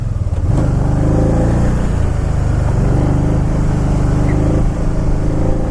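Can-Am off-road vehicle driving, a loud, close engine drone holding steady, then briefly dipping in pitch as traction control cuts in, with wind rush throughout.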